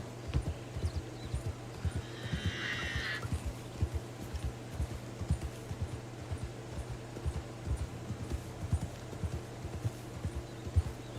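Horse hooves clip-clop steadily in a video game while riding through a desert, a continuous even rhythm of close, moderately loud steps, with a brief higher whinny-like sound early on.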